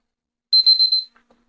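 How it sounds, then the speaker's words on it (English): A kitchen timer alarm rings during home baking of pretzel rolls: a single bright, rapid electronic beeping burst of about half a second, loud and close, followed by a couple of faint clicks and then silence. "So while I was waiting for my timer to go off"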